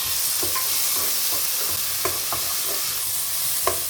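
Tomatoes with onions and cashews fry in a pan for palak paneer, a steady broad sizzle throughout with occasional soft scrapes and clicks of stirring, no voices.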